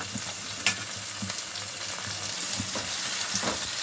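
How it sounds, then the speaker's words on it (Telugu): Ginger garlic paste fries in oil for a chicken curry, a dense continuous sizzle with faint stirring scrapes, close and even throughout. "అల్లం వెల్లుల్లి పేస్ట్ పచ్చి వాసన పోయే వరకు ఫ్రై చేసుకుంటాను"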